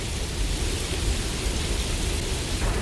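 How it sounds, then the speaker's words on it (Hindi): Heavy rain pours in a dense, unbroken roar during a Beyblade Metal Fusion animated episode, loud and close throughout with a low rumbling edge and no voices. "बारिश तो बहुत बढ़ गई है।"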